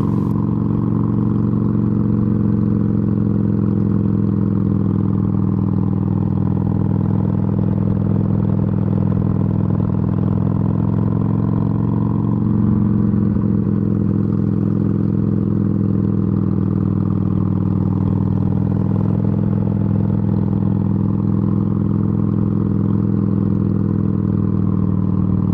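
Harley-Davidson Sportster 883 motorcycle on a road trip, its engine giving a steady, loud, low droning rumble with slight shifts in pitch throughout, with no voices.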